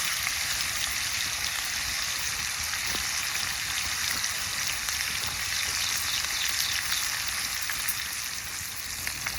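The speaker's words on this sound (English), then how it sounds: "Once I turn it and I get a nice golden brown, I'm going to throw the eggs in" Food in a hot skillet for a bacon and eggs breakfast gives off a loud, steady, crackling sizzle that holds unbroken for about nine seconds, with no voices.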